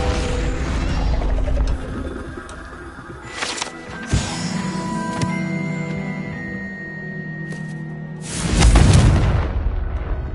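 A Confringo spell in Hogwarts Legacy lands with a few booming blasts among mechanical clanks and a whirring ratchet-like hum, with the biggest rumbling burst coming near the end.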